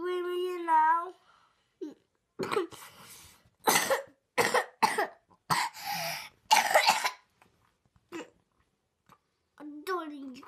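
A poorly toddler coughs in a rapid cluster of harsh, throaty bursts, close and loud, with whiny crying before and after the coughing fit.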